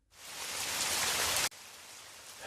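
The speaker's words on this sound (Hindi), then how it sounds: "अचानक काले बादल छा गए और बारिश शुरू हो गई।" Steady rain pours down near dark jungle country, a dense, hissing downpour that rises in and holds loud, then abruptly drops to a quieter, softer patter before swelling again; no voices.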